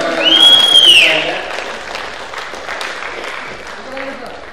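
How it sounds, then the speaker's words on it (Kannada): An audience applauds at a community association's first-anniversary ceremony, with a sharp whistle at the start. The clapping is loudest early, then fades to a softer patter. "ಚಪ್ಪಾಳೆ ತಟ್ಟುವುದರ ಮೂಲಕ"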